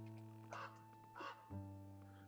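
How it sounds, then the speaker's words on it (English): Two distant crow caws in the video game Alisa, rough and hoarse, sounding over a steady low electronic hum in a quiet setting. "I can hear crows in the background."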